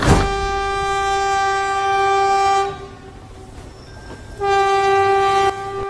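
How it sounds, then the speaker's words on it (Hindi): Train arriving with a loud sustained horn blast that cuts out midway, then sounds again after a short lull, over a low rumble of rolling rail cars. "अरे यार ट्रेन तो आ ही गई"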